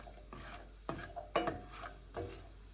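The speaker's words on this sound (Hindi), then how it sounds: "आधा कप यानी कि 50 ग्राम अखरोट फ्राई करेंगे हल्की आंच पे।" Half a cup of walnuts fried on low heat in ghee, a faint sizzle beneath a few separate scrapes and knocks of a spoon against the pan, spaced irregularly and heard up close.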